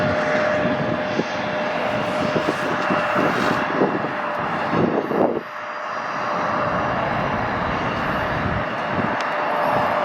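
A former Shanghai Airlines Boeing 757-200, about 19 years old, comes in to land at Atlanta's airport, a loud steady engine roar with a droning tone, briefly dipping midway and then continuing strongly.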